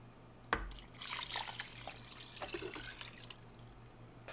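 Beef broth pours into a crock pot of browned meat for birria, a steady liquid splash and trickle with drips, starting with a sharp clunk and running on at moderate level without talk.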